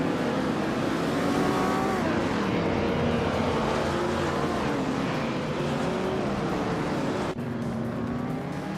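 Engines roaring in a retro racing game at Circuit Gilles Villeneuve, including a 1972 Lamborghini Jarama S, a steady loud drone of several cars with rising and falling revs throughout, no voices.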